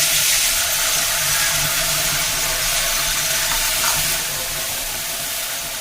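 A paste of ground mustard, ginger and green chilli sizzles in hot oil for a fish curry, a loud, bright, continuous hiss up close that eases slightly toward the end, with no talking.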